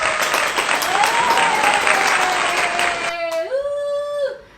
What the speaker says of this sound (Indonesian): Coba yuk kita tepuk tangan untuk kalian semua.